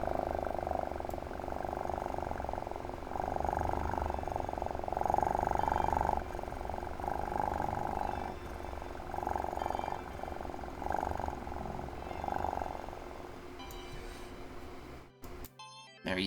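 A person imitates a cat purring with their voice, producing a low, rhythmic rumbling purr that pulses in repeated breaths for most of the stretch, close and fairly soft, ending in a brief clatter.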